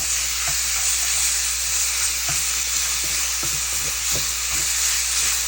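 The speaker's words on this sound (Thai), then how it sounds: "คั่วต่อ" Steady sizzling and crackling of garlic, shallots and pork stir-frying in a hot pan, with occasional clinks of a utensil against the metal, no voices.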